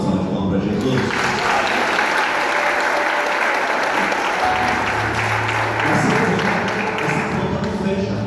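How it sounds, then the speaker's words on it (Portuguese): Loud, dense applause from a church congregation fills the whole stretch, a steady wash of clapping with some thumps and a voice faintly underneath. "Eu vou dar uma salva de palmas para Jesus."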